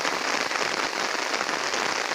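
Heavy rain falling steadily on surfaces outdoors near a vegetable garden, a continuous dense hiss with no pauses and no speech.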